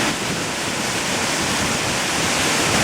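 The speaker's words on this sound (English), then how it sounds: "below the bridge, we have a really cool waterfall" Steady, full roar of a waterfall pouring beneath a suspension bridge on a Costa Rica waterfall tour, a constant broadband rush that holds at an even volume throughout with no voices.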